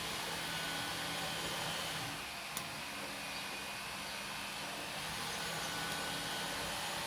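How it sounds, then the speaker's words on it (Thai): A neighbour's cement mixer churning ready-mixed mortar during home extension work next door, a steady broadband rumbling whir that holds continuously at moderate distance, with no talk over it. "เสียงเขาปั่นปูน"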